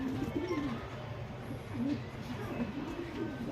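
A pair of pigeons kept for sale coo in low, rolling bursts close by, the soft throaty calls repeating over a steady background murmur.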